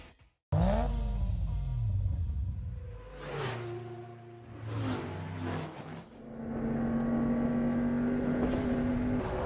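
Race cars roar past at a racing arena in 1989, engines revving loud and close with whooshing pass-bys and shifting engine pitch, alone without talk.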